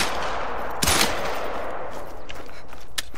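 Shots from a 10mm gun in the hunting game theHunter: Call of the Wild, one sharp report near the start and a fainter second shot near the end, over a steady outdoor ambience with no speech.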